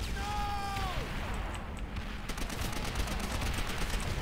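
Gunfire in the World War II shooter game Call of Duty: World at War: a steady spread of rapid shots runs through a dense battle din, with a brief whistling tone near the start.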